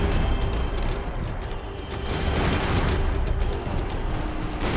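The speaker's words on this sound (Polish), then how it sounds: "Kule wszędzie latają" Sustained gunfire from a shootout in Max Payne 3 keeps up through the whole stretch, a dense, loud clatter of shots with booms mixed in.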